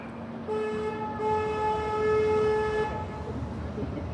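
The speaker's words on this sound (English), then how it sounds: "I'm gonna honk the horn" A steady, sustained boat horn blast with a flat tonal drone, held for a couple of seconds against a low background rumble, at night on the San Antonio River Walk, Texas.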